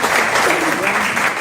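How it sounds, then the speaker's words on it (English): Loud, close applause from a small live audience at a retreat podcast recording, a brief dense burst of clapping with some voices mixed in. "Round of applause"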